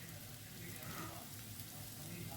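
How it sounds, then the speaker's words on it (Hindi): Bread pieces fry in butter in a pan, giving a steady, soft, broadband sizzle that holds evenly throughout at low level. "हमें ना ब्रेड को ना एक बढ़िया सा दोनों साइड क्रिस्पी होने तक फ्राई करना है"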